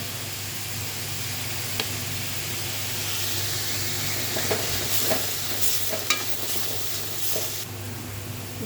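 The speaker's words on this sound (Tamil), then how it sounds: "நல்லா வதக்குங்க வெங்காயம் சீக்கிரம் வதங்கணும்" Onions sauté with a little salt in a pan for a tomato-onion curry, making a constant close hiss of frying with a few scattered scrapes and clinks from stirring.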